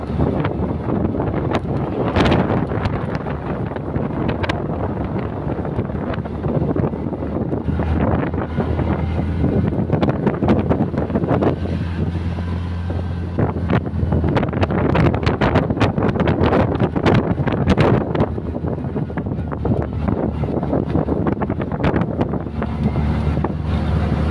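Steady wind buffeting the microphone with continuous rumbling gusts during a drive in rainy weather, loud and close, lasting throughout with no talking.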